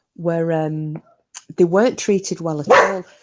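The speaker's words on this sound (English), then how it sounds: "Sorry about the dog." A dog barks in a few sharp, close bursts that overlap with someone talking.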